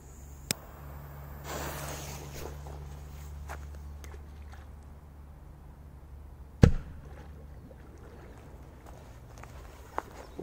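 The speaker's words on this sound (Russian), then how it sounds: "Очень мощный взрыв." A Korsar 6 firecracker explodes in water with a single sharp, loud, muffled bang that stands out after a long stretch of quiet outdoor background with faint, scattered small noises.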